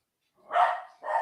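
A dog barks twice in quick succession, close and fairly loud, with a short gap between the two barks and silence before them.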